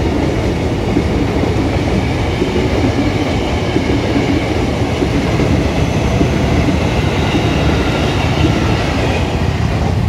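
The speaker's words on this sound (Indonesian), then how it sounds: "ini ada kereta KRL TM 6000, lampunya nyala" A KRL electric commuter train rumbles past close by, a loud, continuous roar of wheels on rails with faint clattering throughout.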